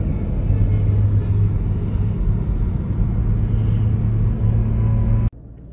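Volkswagen Golf driving, a steady low engine and road rumble heard from inside the car, loud and continuous before cutting off abruptly near the end.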